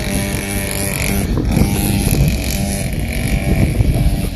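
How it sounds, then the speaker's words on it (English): A child rides a noisy motorbike through a village street in the Valley of Capão, its engine droning steadily and loudly throughout, close by, with some wind noise. "Hopefully this child will go away with this noisy motorbike."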